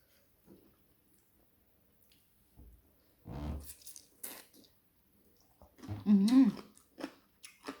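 Someone eating som tam, Thai papaya salad, with scattered close crunchy chewing and biting sounds separated by quiet pauses, growing louder and wetter near the end.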